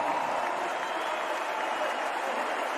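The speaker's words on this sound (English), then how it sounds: "Good response from the crowd." A cricket crowd at Eden Park applauds a batsman's innings during a Blackcaps versus Australia T20 match, with steady, dense clapping that holds at an even level throughout, close and full, with no clear voices on top.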